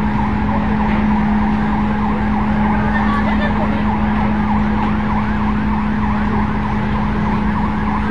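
A fire truck siren wails continuously and loudly at a fire in Barangay Bulabog, Sorsogon City, its repeating rise-and-fall cycles sounding over street and engine noise.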